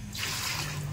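Water runs steadily from a tap into a tub being filled to soak tortoises, a continuous splashing stream with a brief louder splash near the end.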